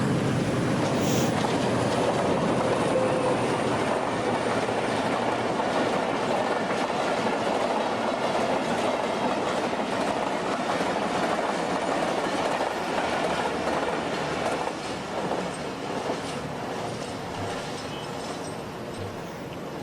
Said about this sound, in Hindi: ये 50-21 बोलान में लेके निकल रहा है कराची से।